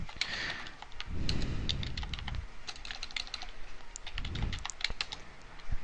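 Keys clatter on a computer keyboard in quick, close, irregular bursts of taps, with soft thumps between the typing runs.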